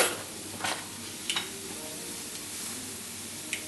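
Steak fillet cooks in butter in a pan, a faint, steady sizzle with a few soft crackles and scattered pops throughout.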